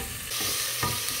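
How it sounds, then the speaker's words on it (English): Onion frying in olive oil in a pan, a close, steady hiss of sizzling that swells suddenly and holds, with a brief stir or scrape partway through. "So put our onion in. Okay, some olive oil."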